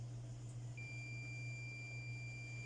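A thin, high multimeter continuity-test beep starts about a second in and holds steadily without breaking, over a low constant hum; quiet, no talking, while checking a Mackie PRO FX12 mixer circuit.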